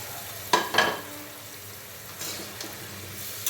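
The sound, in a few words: bitter gourd added to hot oil, sizzling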